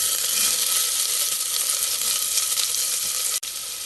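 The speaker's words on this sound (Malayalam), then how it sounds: "ഇതിനെ ഇളക്കി ഫ്രൈ ചെയ്യാം" Cumin, cinnamon, cloves and chopped onion sizzle steadily in hot oil in a pan while being stirred, a loud, even frying hiss throughout with a brief dropout near the end.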